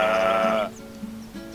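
A single video game sheep bleats loudly and clearly, then a softer second bleat begins just before the clip ends.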